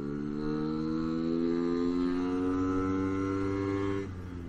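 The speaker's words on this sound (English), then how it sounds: "like fourth gear, just give it a little bit of throttle and it's going up these hills really, really, really," A Lambretta BGM Clubman Sport scooter engine holds a steady, loud drone with strong harmonics while climbing a hill in fourth gear, pitch easing slightly before dropping off near the end; no talking.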